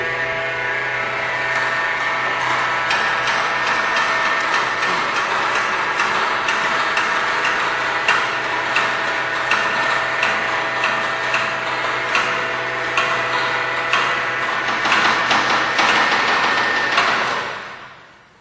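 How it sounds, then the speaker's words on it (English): A hangar door is lifted open: a steady mechanical whirring and rattling runs continuously at close range, with faint ticking, then cuts off abruptly near the end. "So I've lifted it up enough so the light can come in"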